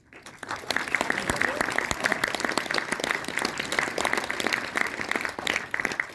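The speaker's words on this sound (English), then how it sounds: "let's first give a huge round of applause for these stars" An audience at a film presentation in St. Petersburg applauds stars Allu Arjun and Rashmika Mandanna, with dense, sustained clapping that swells quickly and stays loud and steady for several seconds, with faint voices mixed in.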